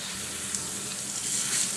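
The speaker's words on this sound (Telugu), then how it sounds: "పల్లీలను ఫ్రై చేసుకోవాలి" Peanuts with a handful of chana dal frying in hot oil for a ragi upma mix give a steady, close sizzle with a soft bubbling hiss throughout, rising slightly near the end, with no talking.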